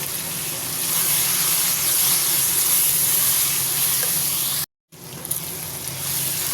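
Dry coriander and cumin powder hit capsicum frying in a pan, giving a loud, steady close sizzle that cuts out briefly near the end, then resumes.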